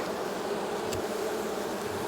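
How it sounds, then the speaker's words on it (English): Honey bees in an open hive make a steady, dense buzz that holds close and even throughout, with no talking. "A lot of bees in here though."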